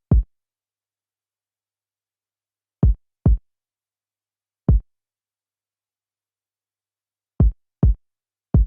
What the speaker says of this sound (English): So the kick by itself sounds like this.